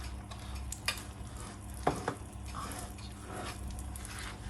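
Walnut halwa cooking in a pan, a soft continuous sizzle with a few quiet scraping stirs and squishy clicks, close and faint, with no talking.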